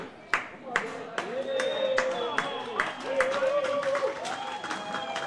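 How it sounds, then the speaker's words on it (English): Scattered claps and a ripple of applause from spectators at a bowls fours match, moderately close, with crowd voices murmuring and calling out underneath. "Definitely can hear who the crowd is supporting"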